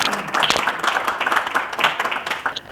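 Audience clapping warmly at a Pashto poetry recital, a dense patter of many hands close by over a few seconds, with a faint voice underneath.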